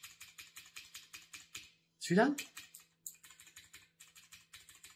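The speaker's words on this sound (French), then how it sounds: "les 1, 2, 3, 4 claviers qui ont des switches bleus, ils ont les 4 les sons différents" Clicky typing on a mechanical keyboard with blue switches, in quick bursts of crisp keystrokes close to the microphone, pausing briefly while a person speaks.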